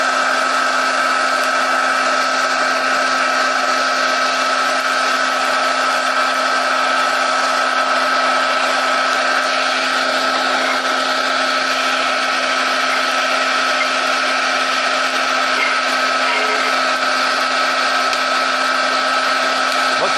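A DIY forge burner runs with a steady, loud, unbroken roaring hiss and a constant low hum throughout, close by and with no voices.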